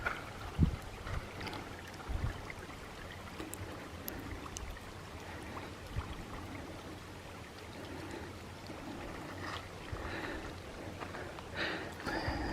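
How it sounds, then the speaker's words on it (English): Steady rushing of a flowing mountain stream on the Mount Whitney Trail, continuous and fairly close, with a few soft knocks and bumps over the water. "I shut up so you can hear the water."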